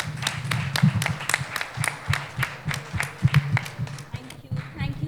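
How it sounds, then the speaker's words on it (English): An audience at a nutrition summit panel claps in a rhythmic, fairly loud round of applause that pulses steadily, partly under a speaking voice. "A huge round of applause for these wonderful ladies doing so much"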